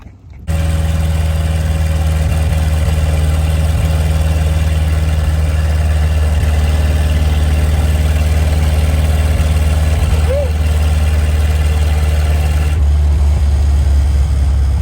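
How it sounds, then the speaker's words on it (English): A traditional 1929 Ford Model A hot rod cruising at about 50 mph on the interstate, a loud steady engine drone with low rumbling tones and road and wind noise throughout, no speech. "We're cruising down the highway, man. Like 50 miles an hour down the interstate."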